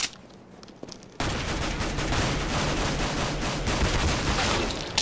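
Rapid, sustained automatic gunfire from the video game CS:GO in a GunGame match, starting abruptly after a quieter opening second and continuing loud and dense to the end with no talk.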